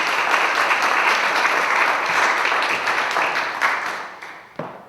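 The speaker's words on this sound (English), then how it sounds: "Let's give Go Rapido and also big applause." An audience applauds after a presentation at a startup pitch event, steady dense clapping sustained at close range and fading toward the end, with a final sharp clap.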